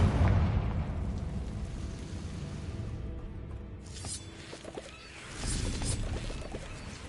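A Confringo fire spell explodes in the video game Hogwarts Legacy, giving a loud low rumbling blast that decays and then swells again into a second burst of crackling debris, with no voices.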